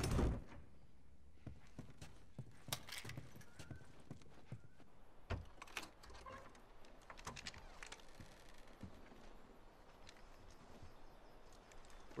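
Horse hooves clip-clop at a moderate distance in The Last of Us video game, with irregular knocks and sharp clacks over a steady ambient bed and no talk.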